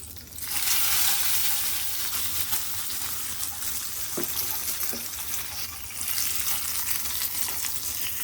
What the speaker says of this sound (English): So now add this seasoning into the chutney.